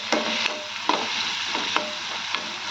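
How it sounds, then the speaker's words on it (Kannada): Roasted gram (putani) fries in a pan for upma, with a steady soft sizzle broken by several sharp scraping clicks of stirring. "ನೋಡಿರಿ ಪುಟಾಣಿ ಚಂದ ಫ್ರೈ ಆಗಬೇಕು ಫ್ರೆಂಡ್ಸ್"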